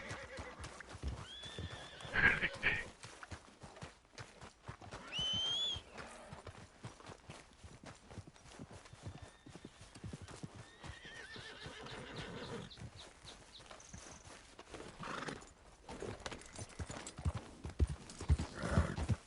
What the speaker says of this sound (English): All the horses are panicking.